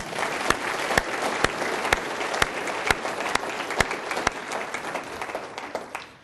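A city meeting audience applauds its police department with dense, steady clapping, sharp individual claps popping above the wash throughout, sustained for about six seconds before trailing off at the end.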